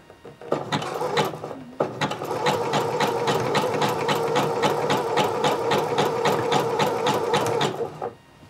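Sewing machine stitching elastic onto shorts fabric, a close rapid regular chatter of needle strokes that starts, pauses briefly, then runs steadily for about six seconds before stopping.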